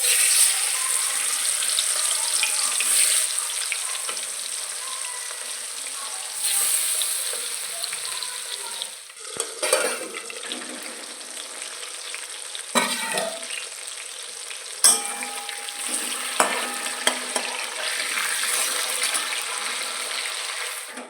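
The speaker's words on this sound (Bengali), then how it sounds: "গরম তেলে দিয়েছি শুকনো লঙ্কা ফোড়ন আর জিরে ফোড়ন" Dried red chillies and cumin seeds sizzle in hot oil, a bright continuous crackle with bursts of spitting and brief dips, close and loud throughout with no talking.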